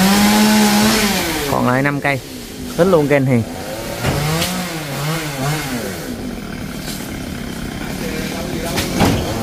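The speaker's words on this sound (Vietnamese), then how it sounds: "ba của Toàn cùng với nhóm thợ cưa sẽ cưa những cây dừa này" A chainsaw runs steadily as a crew fells coconut trees, its engine whine droning beneath loud, nearby conversation.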